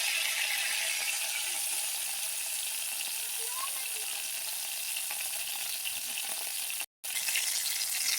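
Hot oil in a pan left from frying cauliflower sizzling steadily and crisply close by, a continuous hiss that cuts out for a moment before resuming.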